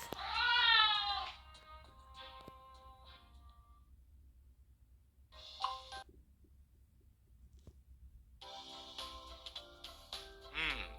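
A cat meowing in the monster cafe video game, with bright high-pitched tonal calls at the start and again near the end, separated by a quiet stretch, over a low steady game background.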